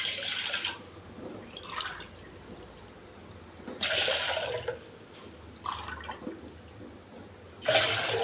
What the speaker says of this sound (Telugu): ఈ గ్లాస్తో 3 గ్లాసులు వాటర్ వేసుకోవాలి.